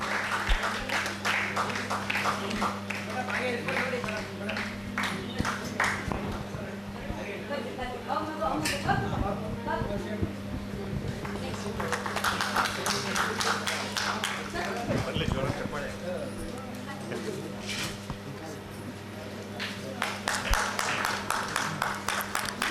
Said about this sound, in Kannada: ದಯವಿಟ್ಟು ಜೋರಾದ ಚಪ್ಪಾಳೆಗಳ ಮೂಲಕ ಕಲಾವಿದರನ್ನು ಪ್ರೋತ್ಸಾಹಿಸಬೇಕು